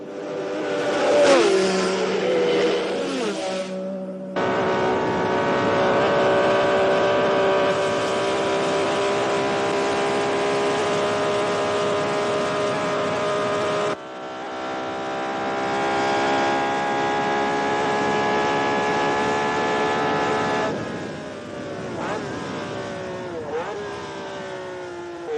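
Grand Prix racing cars, including a Brabham, scream past at full speed in a 1966 race, a sustained high engine whine with abrupt cuts and pass-bys, loud and close, with no talk.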